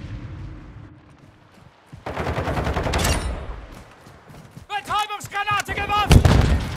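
Gunfire in Call of Duty: Modern Warfare 2 during a Team Deathmatch on the Zarqwa Hydroelectric map, with loud bursts of automatic fire and a voice talking excitedly between and over the shots.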